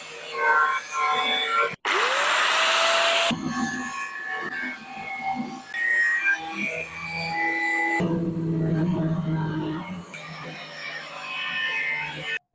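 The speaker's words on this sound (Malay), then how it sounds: "Angle grinder dengan input power yang cukup tinggi iaitu 950 watt, nak potong besi lebih cepat dan lebih mudah" A 950 watt angle grinder cutting iron: a loud, constant high-pitched whine that starts abruptly after a short gap and runs on with shifting pitch as the disc bites into the metal, with no voices.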